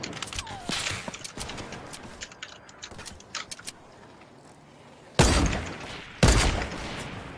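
Sniper rifle shots in the battle-royale game Fortnite, with scattered clicks and small shots early on, then two loud sharp blasts a second apart near the end, each with a booming tail.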